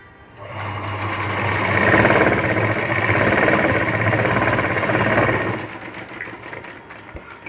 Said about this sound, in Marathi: पहिल्यांदा आपण हा त्रिकोण शिवून घ्यायचा आहे